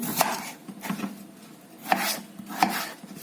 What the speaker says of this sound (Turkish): Bunları da çok büyük doğramıyoruz.